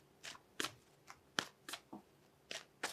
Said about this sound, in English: I'm going to pull one more card here.